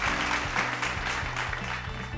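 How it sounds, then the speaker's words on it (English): Audience applause at a school quiz competition, a steady wash of many hands clapping throughout, moderately loud, with a low electrical hum underneath. "Let's clap for team number 3."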